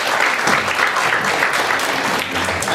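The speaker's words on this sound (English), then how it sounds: "give them a big round of applause" Audience at a half-day seminar on the Companies Act and statutory audit applauds steadily, a dense, even wash of clapping from many hands filling the hall throughout.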